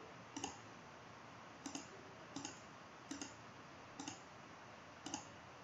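Computer mouse buttons clicking at a steady pace, six sharp, fairly close clicks spaced about a second apart over a soft background hiss, with no talking.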